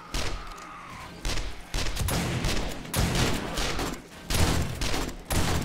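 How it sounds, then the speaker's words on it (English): A pump-action shotgun booms repeatedly during a zombie horde night in 7 Days to Die, about eight heavy blasts spaced roughly every half second to second, each with a deep thump and a short decaying tail. "I got a pump action shotgun,"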